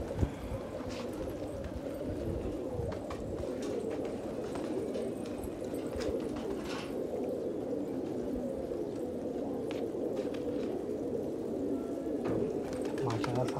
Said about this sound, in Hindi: ये कबूतर खुल रहा है